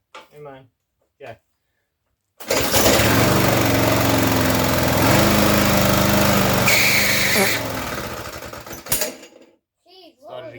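A Rolux Sprint 375 lawn mower engine roars loudly and steadily for several seconds after a pull, then cuts out; brief voices are heard before and after.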